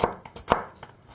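A knife roughly chops a whole onion on a cutting board, giving a few quick, close, uneven knocks against the board, with no talking.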